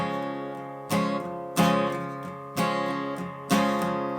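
Acoustic guitar chords strummed downward, five ringing strokes in an uneven long-short rhythm, each letting the chord sustain before the next.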